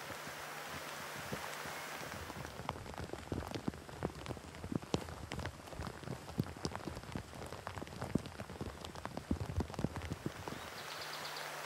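Light rain falling in mountain meadows and thicket, a soft continuous patter of many small drops on leaves and ground, faint and close, with no voices.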